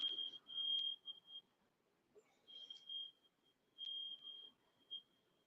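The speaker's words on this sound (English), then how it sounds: "It sound like some alarm went off somewhere." An alarm somewhere in the background chirps in repeated high, thin beeps grouped in short bursts with gaps between, faint and distant, with no voices over it.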